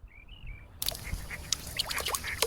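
Ducks quack repeatedly in an outdoor scene for a children's story, loud and close after a brief high whistling tone, with several overlapping calls and no speech.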